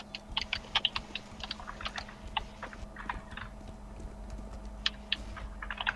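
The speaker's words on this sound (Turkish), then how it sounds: "Klavyeyi oynuyorum." Computer keyboard typing during a CS:GO competitive match, a quick irregular run of light clicky keystrokes and taps with no voices, over a steady low hum.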